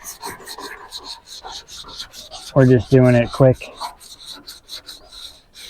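Rapid raspy rubbing of a sanding block on a 1991 Camaro fender, steady back-and-forth strokes, with a short spoken remark partway through.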